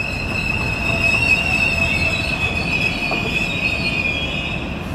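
A train passes a railway station platform with loud, continuous high-pitched wheel squeal riding over a steady rolling rumble, close and sustained throughout.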